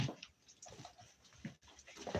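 A dog makes odd, faint whimpering and snuffling noises in short irregular bursts, close by and quiet, with no talk in between.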